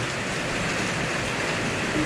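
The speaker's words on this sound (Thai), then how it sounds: "วันนี้ฝนตกนะครับดู" Steady rain falls close by, a dense, even hiss of drops on surfaces that continues without a break.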